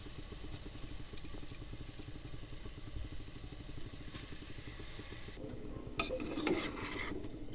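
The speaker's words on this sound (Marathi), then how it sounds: "आणि हे तांदूळ चांगले व्यवस्थित परतून घ्यायचे।" Rice tossed with potato and spices in a pan for Maharashtrian masala rice, a steady soft scraping and rustling of a spoon against the pan, with a few sharper clinks near the end.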